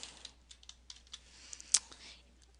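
Someone types on a computer keyboard in a nursing medication-entry program, with light, irregular key clicks and one sharper tap near the middle, at low volume.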